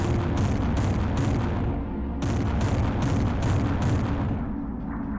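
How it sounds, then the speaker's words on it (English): Submarine cannon in the Aquanox underwater video game unleashing its alternate fire, all three barrels discharging together in a series of heavy, booming bursts over a dense continuous rumble, loud and close, with no talking. "Fires like all 3 barrels at once."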